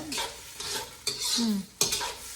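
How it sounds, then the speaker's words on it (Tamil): Chopped onions and tomatoes sauté in a pan with a continuous close sizzle, punctuated by several sharp scraping stirs of a spoon against the pan. "இந்த வெங்காயம் தக்காளி வதங்கட்டும்"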